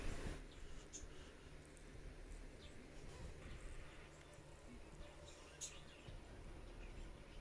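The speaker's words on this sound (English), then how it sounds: "These birds won't shut the fuck up." Birds chirp faintly in the background outdoors, with small scattered calls over a steady low hiss and no clear talking.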